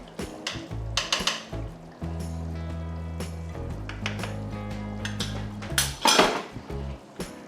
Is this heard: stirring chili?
yes